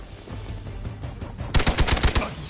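Rapid gunfire in the video game Marvel's Midnight Suns: after a stretch of low background noise, a loud burst of closely spaced shots cracks out in quick succession, sounding near and punchy.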